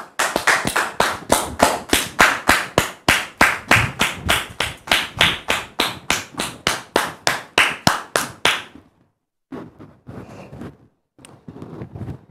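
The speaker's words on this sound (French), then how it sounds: "Il s'agit d'une dame, Dame Marguerite, que nous allons recevoir avec vos applaudissements, s'il vous plaît." Loud, sharp hand claps in a fast, regular rhythm for several seconds, then stopping abruptly, followed by a few scattered fainter claps and noises.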